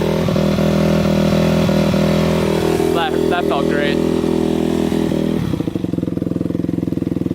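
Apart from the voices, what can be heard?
motorcycle engine running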